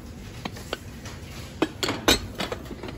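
Ceramic pots clink and knock together as they are handled, a handful of sharp, close taps spread irregularly over a few seconds in a quiet room.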